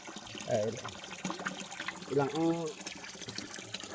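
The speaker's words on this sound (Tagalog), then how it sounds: "Hindi tumitigil sa pag-agos yung tubig." Water flows without stopping from a natural outlet, a soft trickling gush heard close by under people talking.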